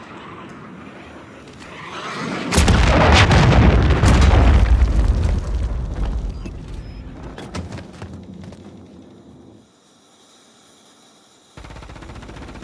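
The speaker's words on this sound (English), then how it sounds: "Hostiles launched a cruise missile." Cruise missile strike in a Call of Duty: Modern Warfare 3 ranked match: a loud, sustained roaring blast swells in, rumbles for several seconds with crackling bursts, then fades, followed by quieter game ambience.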